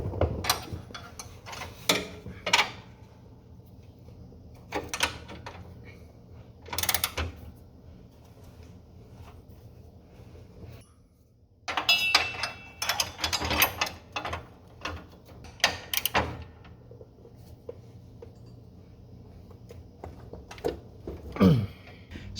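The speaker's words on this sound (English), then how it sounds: "Now we can get them snugged up." Bolts and nuts being snugged up on the steering of a John Deere D Series mower: scattered close metallic ratchet clicks, clanks and tool bursts separated by quieter pauses.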